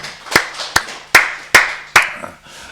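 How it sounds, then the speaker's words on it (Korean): A church congregation at a Wednesday worship service claps to give glory to God, five sharp, loud handclaps spaced about half a second apart, near and distinct with little else around them. "우리 박수로 하나님께 영광 드리겠습니다."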